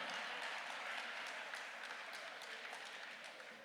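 Audience applause at a Tamil speech event in Slough, England, a dense steady clapping from a crowd that holds loud throughout and only slightly eases toward the end.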